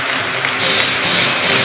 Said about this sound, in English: rows and rows of Hull City fans who taken to their feet to applaud their team onto the pitch